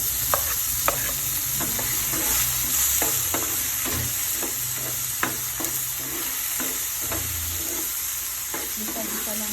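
Tomato and corned beef sautéing in an oiled pan with garlic, a steady bright sizzle broken by repeated scrapes and taps of a spatula stirring throughout.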